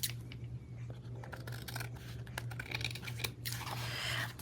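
Scissors trim the sides of a folded paper envelope in a quick run of crisp snips and cuts over a low steady hum, with no one speaking.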